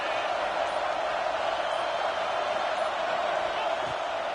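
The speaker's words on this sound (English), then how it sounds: "Big 3rd down as the crowd gets behind this defense." A stadium crowd in the NCAA football video game keeps up a steady, dense roar of cheering and noise on a big third down, with no clear breaks from start to finish.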